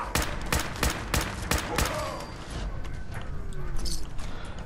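Shotgun blasts from Fallout 4, a rapid run of five or six loud, sharp reports in the first two seconds, followed by a trailing, reverberant rumble of combat ambience.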